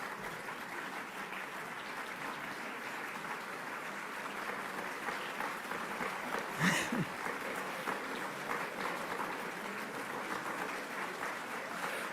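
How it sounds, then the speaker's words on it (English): Sustained audience applause fills the room after a speech on government transparency, a dense steady clatter of many hands at even loudness throughout, with a brief louder burst near the middle. "I'm glad you're clapping"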